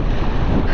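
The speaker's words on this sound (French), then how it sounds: "là le vent est en train de se lever et on l'a de face" Strong headwind roaring on a mountain bike ride in overcast, rainy weather, a loud continuous broadband rush of wind buffeting the microphone with no speech.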